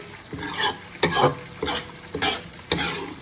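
Chicken frying in a pot for korma, a close, lively sizzle broken by five or six rhythmic bursts of stirring and scraping against the pan.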